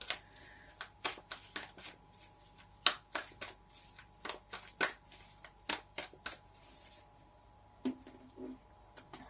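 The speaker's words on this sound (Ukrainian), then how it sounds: "Підготую трошки під вас карти." Tarot cards are shuffled by hand up close, a rapid irregular run of crisp riffling and tapping snaps over a quiet room.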